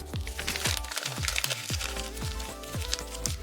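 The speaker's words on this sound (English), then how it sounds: "Now we're going to cover it up with another layer of parchment paper." Parchment paper crinkles and crackles as it is laid over a layer of dyed tissue paper in a craft project, giving a run of close, sharp rustles and crunches with no voices.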